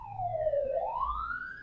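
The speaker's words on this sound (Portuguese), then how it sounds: "Aqui passa bastante ônibus e ambulância, gente, às vezes a gente vai ter que dar uma paradinha." An ambulance siren wails as it passes on a street outside a home, one long tone that sweeps down and then climbs again, clear and moderately loud with no talk.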